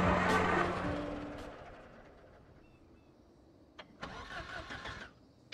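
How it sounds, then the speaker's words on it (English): A hotwired car engine in the video game Project Zomboid cranks and catches with a loud, rough roar that fades over a few seconds, followed by faint clatter and a brief burst of noise later. "Freaking engine roars to life"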